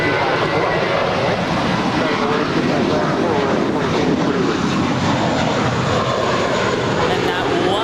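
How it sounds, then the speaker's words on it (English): American Airlines Flight 4 to JFK takes off from Los Angeles LAX, a loud, continuous jet roar filling the whole stretch at an even level, with voices faintly mixed in. "And that was American Flight 4 to JFK."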